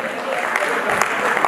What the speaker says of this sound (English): Let's clap for the women in green.